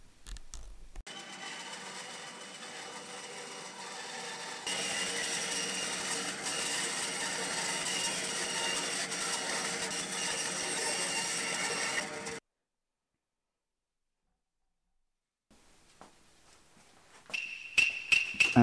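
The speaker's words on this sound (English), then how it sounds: "and then went to the bandsaw" A bandsaw cuts a wooden katana blade with a steady mechanical whir, and the sound grows louder and harsher as the blade bites into the wood. It cuts out abruptly into silence, then gives way to faint clattering handling sounds.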